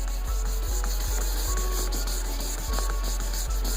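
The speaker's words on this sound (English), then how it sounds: "sand over those spots" A hard sanding block rubbing wet 600-grit paper over marked spots on the custom paint of a 1973 Chevy Caprice, a steady close rasp with regular back-and-forth strokes and a low hum underneath.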